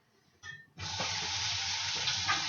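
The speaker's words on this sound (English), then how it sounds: "Then fill the rest with hot water" Water gushes from a tap into a pot of peeled beets, starting abruptly after a brief splash and then running loud and steady to the end.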